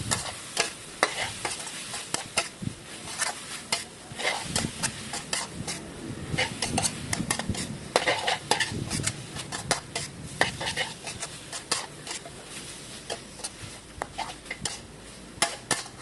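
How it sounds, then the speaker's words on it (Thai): Squid stir-fried with holy basil and long red chili sizzles steadily in a hot pan, with frequent scraping and clanking of a spatula against the metal through the whole stretch and no talk. "ใส่ปลาหมึกใส่กะเพราแล้วก็พริกชี้ฟ้าลงไป จากนั้นก็ผัดต่อค่ะ"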